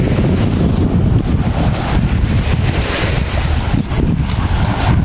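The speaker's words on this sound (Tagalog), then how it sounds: "Sarap ng hangin, grabe." Strong wind buffeting the microphone outdoors by the sea, a loud continuous roar and rumble with faint wave wash underneath, steady throughout with no voices.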